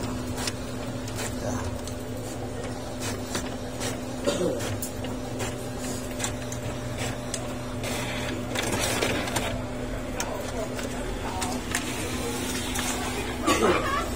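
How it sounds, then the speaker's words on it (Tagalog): An Epson L130 inkjet printer works through a long 8x13 page with a steady mechanical whir, a sustained tone and repeated clicks and clacks of the print head and paper feed, close by. "At dito yung aking printer na L130."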